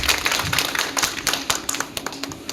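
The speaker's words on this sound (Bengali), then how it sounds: "আমরা একবার তালি দেব।" A small audience at an award ceremony for a district newspaper's best sub-district correspondent applauds with brisk, close, overlapping claps.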